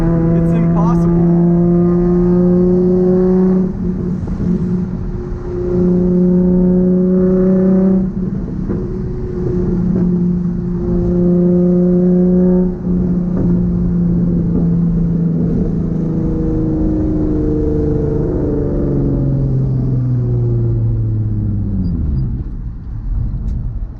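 A Nissan 350Z with a full Tomei exhaust drives with a loud, droning engine note, rising and falling through gear changes, then easing off toward the end, heard from inside the car.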